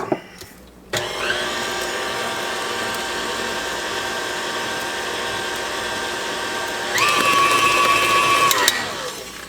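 An electric mixer whirs steadily through oatmeal cake batter with vanilla, a loud, constant motor drone that starts abruptly, rises in pitch for a short stretch near the end, then cuts off.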